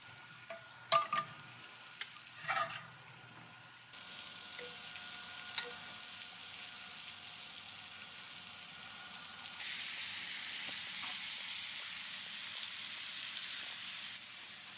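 Scallops searing in a pan, beginning with a few clinks and knocks before a steady, bright sizzle sets in and grows stronger, continuing evenly to the end.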